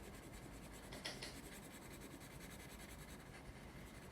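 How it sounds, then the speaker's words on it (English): A pencil shading in the windows of a castle drawing on paper, a very quiet, steady scratching with a few slightly stronger strokes, close up and alone. "So I'm going to color them in nice and dark with my pencil."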